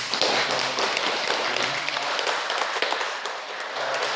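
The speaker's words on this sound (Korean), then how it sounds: "감사의 박수 부탁드립니다" An audience at a Won Buddhist temple gathering claps steadily in thanks, a dense sustained round of applause filling the room from start to finish.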